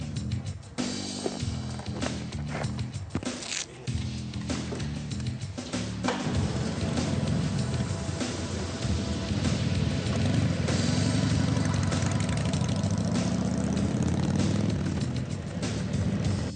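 A motorcycle on a test ride after a brake pad change, its engine a steady loud drone that rises and holds through the ride, with wind noise and road rumble and no talk.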